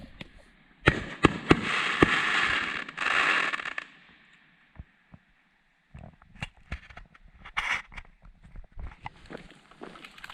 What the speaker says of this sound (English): we get treated to up front seats to a fireworks show